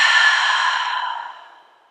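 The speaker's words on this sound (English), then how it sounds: "Full inhale. No hold, full exhale." A long, full exhale of breath during a calm breathing exercise, an airy breathy rush that starts strong and fades steadily over about two seconds, close and alone with no talking.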